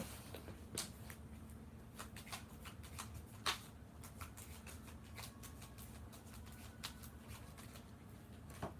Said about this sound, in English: Cards are flying.